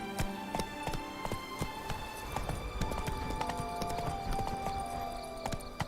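Horse hooves clip-clopping at a steady galloping rhythm in The Witcher 3: Wild Hunt, loud and close, with game music and ambient sounds layered beneath.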